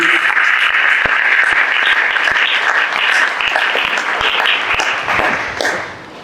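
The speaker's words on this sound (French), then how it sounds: "Nous acclamons très fort pour ce temps de Dieu." A church congregation bursts into sustained, dense applause after a sermon, loud and steady throughout with scattered sharper claps, thinning slightly toward the end.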